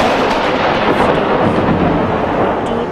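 A long, deep rumble of thunder rolling on without a break, loud and close, with a rain-like hiss under it.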